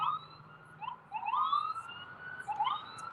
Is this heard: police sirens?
yes